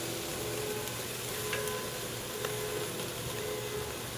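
A thick beer-marinaded chuck steak sears in a hot pan, giving a steady, even sizzle of frying with a few faint crackles and no voices.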